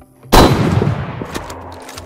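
Single sharp sniper rifle shot in the video game DayZ, a loud crack followed by a rolling echo that fades over about two seconds.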